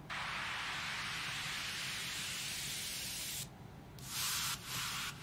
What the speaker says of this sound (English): Couple of noise, white noise build-ups